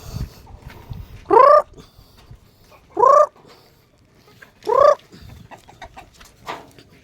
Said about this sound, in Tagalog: kasi ating mga manok dito yung iba pagalagala lang tulad niyan sa labas